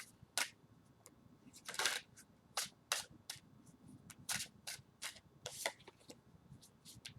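Tarot cards being shuffled in sharp, irregular riffling bursts, close and crisp, with short pauses between the flurries.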